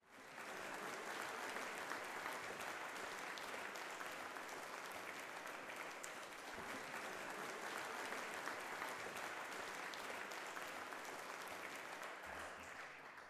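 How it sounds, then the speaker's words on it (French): Audience applause at an academic year opening ceremony, dense sustained clapping from a crowd that continues evenly for over ten seconds without talk. "Ce soir, je voudrais qu'ensemble, nous applaudissions ces héros humains qui sont les nôtres."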